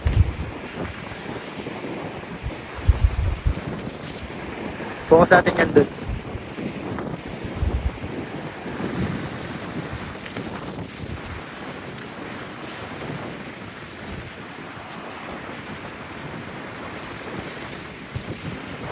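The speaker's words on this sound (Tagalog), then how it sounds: "Ay, ang hangin." Wind buffets the microphone in uneven gusts at sea during fishing, over a low, open outdoor rumble, with a few bursts of talking mixed in.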